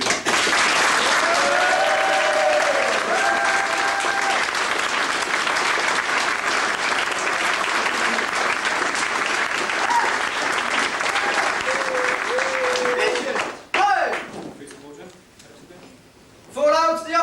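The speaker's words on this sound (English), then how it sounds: "I want you to give all your staff a huge round of applause" A large audience gives a long, loud round of applause for staff at a 2005 military-style inspection and trophy parade, steady dense clapping that suddenly stops, followed by brief voices and a final short burst of clapping.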